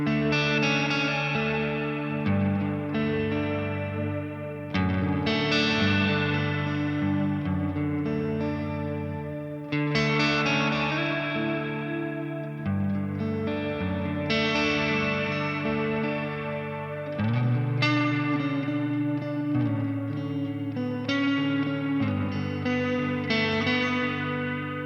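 Electric guitar through a Tone City reverb pedal set to full reverb, playing a series of distorted chords whose long, smeared tails blend into one another over about twenty-five seconds, with no voices.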